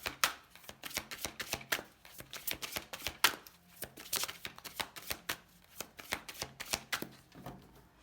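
Tarot cards are shuffled and laid out close by in a quick series of crisp riffling bursts and papery slaps. The pattern repeats steadily with no talking.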